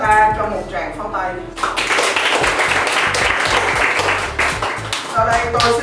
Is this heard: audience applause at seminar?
yes